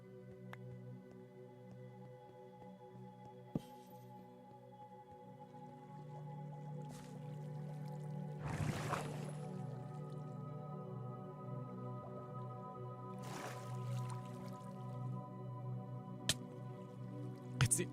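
Minecraft water elevator gurgling with soft drips and squishy bubbling, a low steady watery hum with a couple of brief louder sloshes, fairly quiet throughout.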